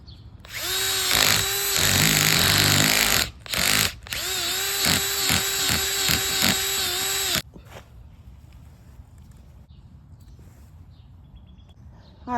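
A power auger bores planting holes for tomatoes in a garden bed, giving two loud whining bursts of motor separated by a short pause, followed by quiet outdoor ambience.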